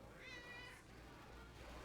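A cat gives a single brief, faint meow over a steady low background hum, with no one speaking.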